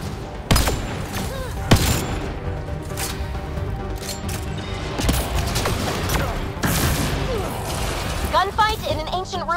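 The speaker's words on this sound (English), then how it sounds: "Gunfight in an ancient ruin?" Gunfight in an ancient ruin in Mass Effect Andromeda: loud sci-fi gunshots and sharp blasts crack repeatedly over a rumbling battle din, with distorted electronic whines near the end.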